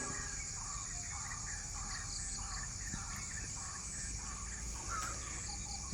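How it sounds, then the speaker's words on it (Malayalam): Small birds chirping in a paddy field in the morning, faint repeated calls over a steady insect-like drone and distant ambience. "ഈ കാണുന്ന ഏരിയയിൽ നിന്നുണ്ടല്ലോ കുഞ്ഞു കുഞ്ഞു കിളികളുടെ ഒച്ച ഭയങ്കരമായിട്ട് കേൾക്കാനുണ്ട്"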